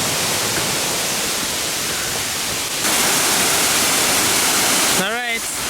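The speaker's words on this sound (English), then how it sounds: "This is the Durian Waterfall." Durian Waterfall on Langkawi Island, Malaysia, roaring as a loud, continuous rush of falling water heard close by, with a brief voice rising near the end.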